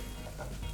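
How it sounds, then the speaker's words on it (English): A bean burger frying in a pan over medium heat gives a soft, continuous sizzle, faint and close, in a brief burst with no voices. "let that sizzle on each side for a couple of minutes"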